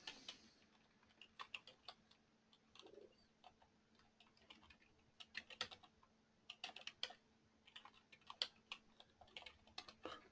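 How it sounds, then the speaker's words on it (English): Typing on a computer keyboard, bursts of light, quick key clicks with short pauses between, close and quiet in an otherwise still room. "Okay, so I'll type a secret question in."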